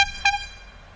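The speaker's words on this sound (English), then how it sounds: "See, this is what you call an air horn." A pumped-up air horn mounted on a tall bike gives two short, loud tonal blasts with bright stacked harmonics, the second slightly longer, then fades into a quiet outdoor background.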